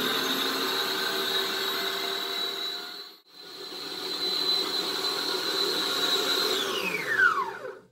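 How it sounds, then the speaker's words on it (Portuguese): Electric stand mixer whipping a passion fruit mousse mixture, a steady whirring motor hum with a brief dip midway and a falling whine as it spins down at the end; no talking. "vou bater aqui e já mostro para vocês como é que vai ficar o ponto"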